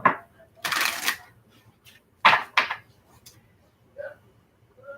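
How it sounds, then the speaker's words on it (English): Tarot cards being shuffled by hand in a few separate bursts of riffling and slapping, close and fairly loud, with quiet gaps between and soft voice fragments near the end. "this is going to be our last shuffle."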